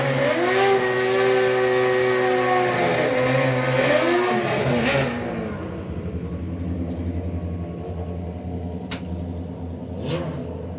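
Naturally aspirated drag racing motorcycle engine on race fuel, revving past 10,000 RPM at a drag strip event; a loud, sustained high-pitched wail holds for about five seconds before dropping to a rumbling idle with occasional sharp bursts.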